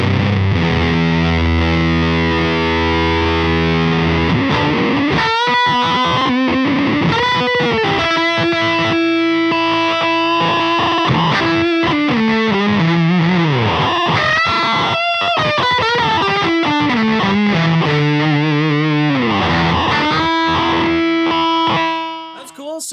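Electric guitar through a Caroline Wave Cannon Zero distortion pedal, loud and saturated, with sustained distorted chords giving way to a busy run of riffs and bends for about twenty seconds, no talking.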